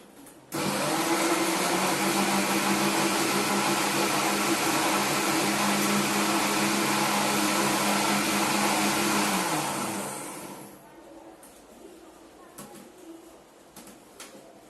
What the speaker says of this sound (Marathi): आता याचं झाकण लावून आपल्याला ह्याला मिक्सरमध्ये छान फिरवून घ्यायचं आहे आणि याचा ज्यूस करून घ्यायचा आहे.